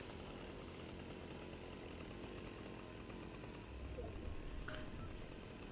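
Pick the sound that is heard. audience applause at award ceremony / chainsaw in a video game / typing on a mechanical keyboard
chainsaw in a video game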